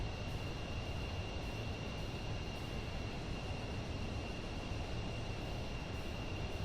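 Pilatus PC-24 jet engine in Microsoft Flight Simulator 2024 holds a steady low cruise drone with a thin constant whine above it, quiet and unchanging, no voices.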